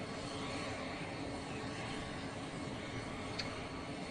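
A plane's engine drones steadily at an airport as a dignitary boards to fly to Washington, D.C., a continuous broadband roar with no talk over it.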